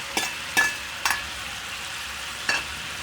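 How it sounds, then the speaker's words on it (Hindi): Ginger garlic paste frying in a pan for malai boti gravy: a soft steady sizzle under four distinct stirring scrapes at irregular intervals, close by, with no one talking. "अब इसमें डालेंगे अदरक लहसुन का पेस्ट,"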